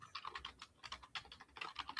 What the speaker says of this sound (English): Typing and writing a little book over there